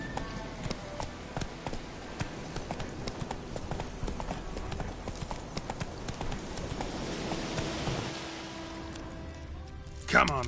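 Roach the horse gallops in The Witcher 3, a steady, loud clip-clop of hooves that runs throughout and eases near the end, with a voice speaking over it.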